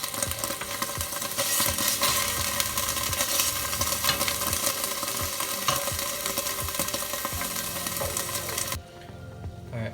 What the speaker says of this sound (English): Now you can see that I added the onion, which I diced.